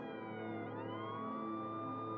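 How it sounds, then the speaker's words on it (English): Police sirens wailing at a distance, several overlapping tones sliding slowly in pitch, heard steadily throughout and alone without talk. "we got police sirens"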